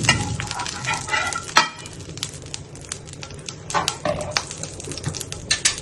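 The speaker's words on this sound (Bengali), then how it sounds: "এখন আমি তাওয়া বসাইলাম, তাওয়ার মধ্যে ঘি দিলাম" Ghee sizzling in a hot tawa, a steady close crackle with scattered sharp pops and some clinking of a utensil against the pan.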